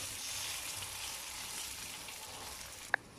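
Food frying in a pan for a spicy vegetarian dish makes a soft, even hiss that runs throughout at a low level. One brief sharp click sounds just before the end, and there is no speech.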